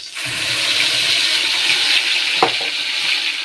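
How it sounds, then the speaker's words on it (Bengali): Fish curry simmers in a pan with coriander, a steady bubbling hiss under low gas heat, close and continuous with one brief clatter partway through. "মাছের ঝোলটা টকবক টকবক করে ফুটছে"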